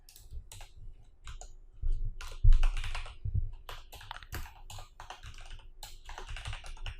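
Close computer keyboard typing as a MySQL query is entered, an irregular patter of key clicks in quick bursts with brief pauses, a few heavier key thumps among them.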